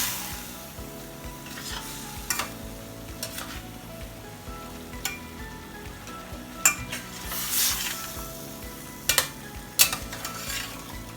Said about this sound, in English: Now, give this a mix.